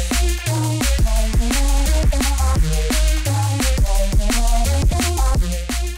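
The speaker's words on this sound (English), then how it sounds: "So pay attention to the mix of the kick in this drop that I've put together here." An aggressive electronic drop, mixed super loud and distorted, punches along with a heavy kick drum hitting steadily under dense synths, dominant and close throughout with no speech.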